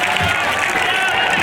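Dense audience applause fills the air at an outdoor Rajasthani comedy show during the Shekhawati Utsav festival in Laxmangarh, a steady wash of clapping from a large crowd with voices mixed in.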